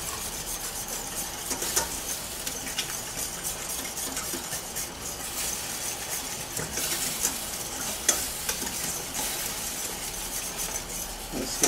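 A utensil stirs thick Salisbury steak gravy in a sizzling pan, with repeated scraping and clinking against the pan over a steady simmering hiss, close and without talk.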